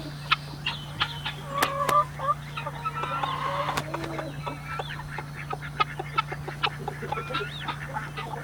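Guinea fowl and chickens, with a rooster, call in a farmyard in the morning, sharp repeated chattering cries and clucks scattered over a steady low hum, some near and some farther off.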